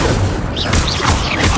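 Fiery Incendio spell cast in Hogwarts Legacy, heard as a dense, loud whooshing burst of crackling noise with booming low rumble, continuous over a second and a half with no talk.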